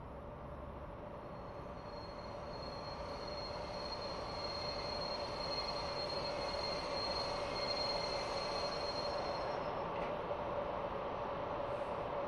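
Wheels squeal steadily as a train runs along the track in Train Simulator Classic, a continuous high metallic screech over a constant low rolling rumble, with no one talking.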